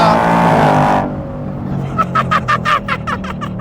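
A 2024 Ford Mustang GT V8 holds about 5,000 RPM, first as a loud, harmonic engine drone that drops sharply after about a second to a much quieter hum in quiet mode, while someone talks over it.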